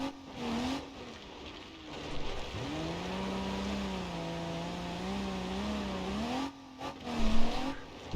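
Race car in BeamNG.Drive on a dirt oval, engine droning and revving with rising and falling pitch, tires skidding, then a burst of tumbling crashes near the end as the car rolls over; no talking.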